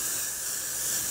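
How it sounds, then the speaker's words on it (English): Got2b Glue spray is sprayed onto a hair wig in one steady, close, continuous hiss lasting about a second, with no talking. "Got to be glue and just spray it."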